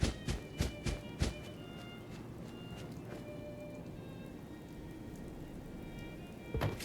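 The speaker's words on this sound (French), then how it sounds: "Il pleut, bah oui, bien sûr, il pleut." In Fallout 4, a continuous soft hiss of rain runs throughout, broken by a few sharp thumps near the start and again at the end.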